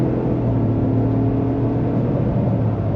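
A 2024 Ford F-150 Platinum Plus Hybrid pickup accelerating, heard from inside as a loud, steady low engine rumble and whir holding an even drone throughout.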